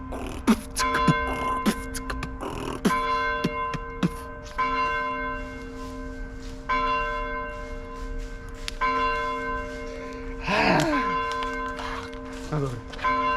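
A church bell rings in clear repeated strokes with long ringing overtones, loud and close, with brief voices and other noises in between.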